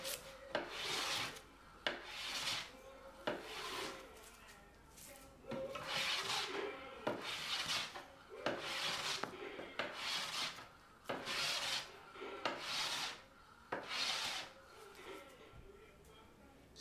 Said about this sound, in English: need to be a little bit more careful with your planing